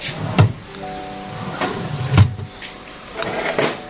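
A wooden drawer with its fitted front slides open and shut in a home workshop, giving several dull knocks and a smooth rolling runner sound, close and moderately loud.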